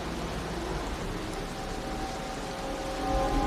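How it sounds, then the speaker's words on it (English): Steady, dense rain in the Wuthering Waves video game, a constant hiss of downpour that swells slightly louder near the end, with a faint tonal hum underneath and no talking. "The rain's getting heavier."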